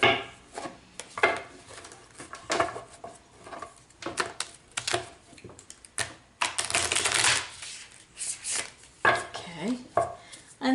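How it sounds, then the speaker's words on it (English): A deck of large tarot cards is shuffled by hand in quick bursts of crisp slapping and riffling clatter, close and fairly loud, with brief pauses between shuffles. "the first thing I will do will be a quick shuffle"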